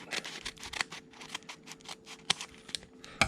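Scissors snip repeatedly in quick, uneven clicks close by, cutting near hockey cards, with faint rustling of cards between the cuts and no talking.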